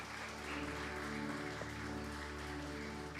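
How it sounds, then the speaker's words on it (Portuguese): A church congregation applauding during a worship service, a soft, distant patter of many hands that continues evenly, faint and without speech. "Aplauda o Senhor que é digno."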